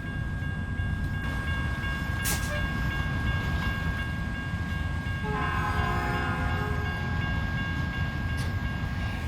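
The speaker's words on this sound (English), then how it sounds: "We want to stop and watch this train go by." A train rolls past in an SCS truck driving game on an American map, with a steady low rumble throughout and a loud, sustained horn blast sounding midway.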